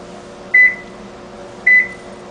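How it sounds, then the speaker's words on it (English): Two short, high electronic beeps from a car's smart key unit during key registration, about a second apart, clear and close, over a steady low hum. "Notice two beeps."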